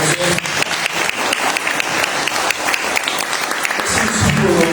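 Audience at a bullfighting museum talk in Huamantla breaks into steady, dense applause, a continuous wash of many hands clapping at close range that swells slightly toward the end.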